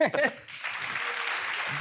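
A theatre audience at a live interview breaks into applause right after a short spoken phrase, with even, sustained clapping that carries on steadily to the end.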